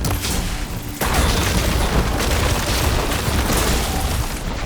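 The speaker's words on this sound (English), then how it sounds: "See those little crystals? Takes one hit to detonate." In Horizon Forbidden West, a crystal detonates with a loud deep boom that swells into a continuous roaring rumble of explosive noise, sustained at high level to the end.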